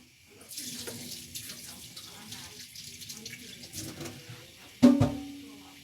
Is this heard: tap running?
yes